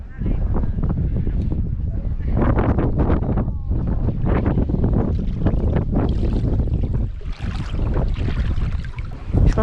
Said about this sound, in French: Mais là il y a beaucoup de vent en plus d'être glacé